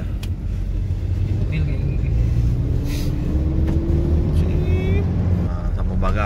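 An Al Hijrah bus rumbles steadily as it arrives, heavy low engine drone throughout with a slowly rising whine, and people talk over it.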